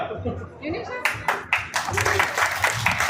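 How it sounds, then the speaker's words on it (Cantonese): Audience clapping for a young woman volunteer at an acrobatics show, the applause rising after the first second into bursts of claps, with voices carrying over it. "我哋俾啲掌聲為姑娘。"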